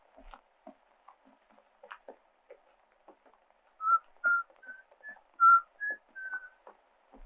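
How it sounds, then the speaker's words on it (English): A lone person whistles the tune Yankee Doodle, a few short clear notes in a bouncing rhythm against faint scattered background clicks and rustles. "somebody's whistling Yankee Doodle"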